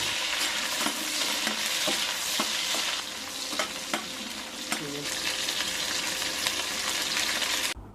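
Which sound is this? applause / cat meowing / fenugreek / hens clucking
fenugreek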